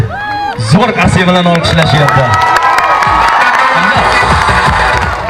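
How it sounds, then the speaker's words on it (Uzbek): A crowd in a TV studio cheers loudly with whoops and excited shouts over scattered clapping, continuous and close throughout. "Ammo sizga zo'r qarsak bilan olqishlayapti"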